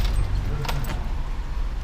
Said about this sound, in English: Oh, is that the keys for the boat?